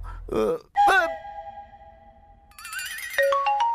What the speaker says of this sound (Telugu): ఈ ఫోన్ ఆగదు